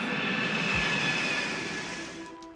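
An Airbus A330-200 roars on its takeoff run, a steady, dense jet engine rush with a rising tonal whine that fades slightly toward the end, with no one talking.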